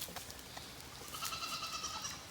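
Goats in a pond area being cleared of brush bleat faintly from far off, a few thin wavering calls rising over a quiet outdoor background near the end.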